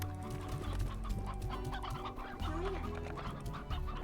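Stony hens in the video game Slime Rancher cluck busily and steadily for a few seconds over the game's background audio, with no one speaking.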